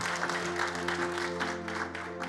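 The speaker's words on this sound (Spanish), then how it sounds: "Dele ese aplauso fuerte a Cristo, porque Él es bueno" A church congregation applauds Christ during a sermon, a brief sustained wash of clapping mixed with a droning sustained tone underneath, fairly steady and moderately loud.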